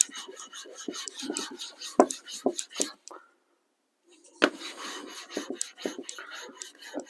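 A kitchen knife is rubbed back and forth on a water stone to flatten it, giving close, rasping strokes in an irregular rhythm with a brief pause partway through.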